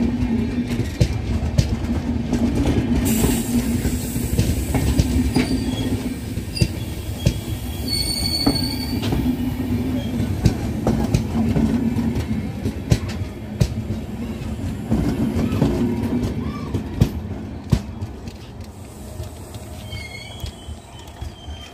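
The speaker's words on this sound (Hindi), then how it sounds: "ये देखिए guys, train number 12750 Bidar Machilipatnam superfast express." The Bidar–Machilipatnam Superfast Express rolling on an electrified line, loud rumbling wheels with repeated metallic squeals and clatter over rail joints, sustained and close.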